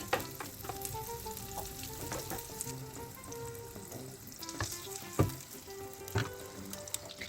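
Butter melts and sizzles in a pan for a tomato paste base, a steady crackling fry near the listener with scattered clinks and scrapes of a utensil against the pan.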